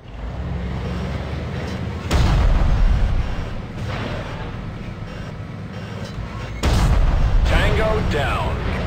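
Tank cannon fire and explosions in a modern tank war game: two heavy booming blasts with rumbling decay over a constant engine drone, with a voice speaking over the action.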